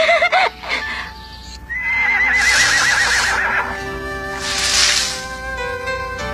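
Horse neighs and whinnies near a feeding area, with a high rising-and-falling call at the start, a longer wavering whinny through the middle, and breathy snorts and rustling between them.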